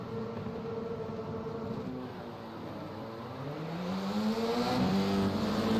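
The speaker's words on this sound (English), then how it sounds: "The field of 21 cars strong, thundering down in towards turn number 1 for the first time tonight" Formula 4 race cars accelerate off the start at Monza, a loud layered engine roar with rising pitch sweeps as the pack pulls away and builds in volume toward the end.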